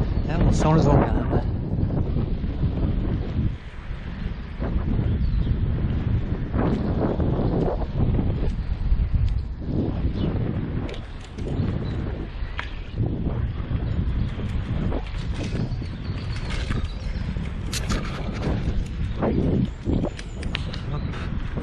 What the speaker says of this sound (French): Là, on sent le vent quand même.